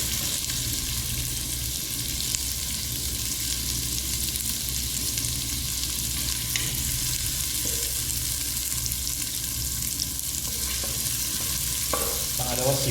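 Onions sautéing in a pan for a mung bean dish give a continuous, fairly loud sizzle throughout, with a few soft utensil taps toward the end.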